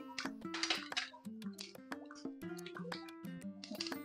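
Mustard seeds hit hot oil in a pan already holding fried peanuts, tempering for Maharashtrian kande pohe, giving a run of sharp pops and crackles over a steady tonal background for several seconds.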